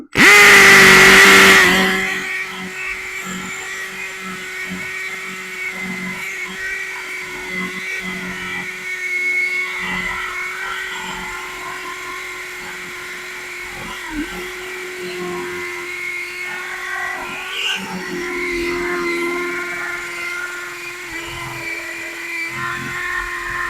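A Vitals PAU 1870 cordless drill-driver boring with a 10 mm bit, a loud initial burst settling into a steady whining motor drone with slight load changes, continuous for over twenty seconds, no talk.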